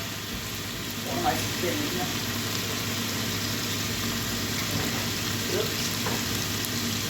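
Garlic sizzles in butter in a pan as a spatula stirs it. A steady, close frying hiss runs throughout, with a few faint scrapes, while someone talks over it.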